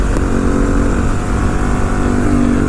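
A 2014 KTM 1290 Super Duke motorcycle engine under acceleration, a dense, steady roar with a faintly rising tone and strong wind rush, loud and close, without talk.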